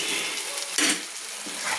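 Potatoes fry with spices in a pan for aloo chingri, a brief close hiss of sizzling oil with a sharper burst of stirring partway through.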